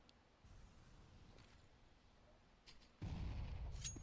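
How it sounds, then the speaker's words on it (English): A grenade explosion in a CS:GO esports match sounds faint at first, then gives way to a sudden low booming burst near the end, with scattered distant gunfire before it. "Oh, that's a nice grenade."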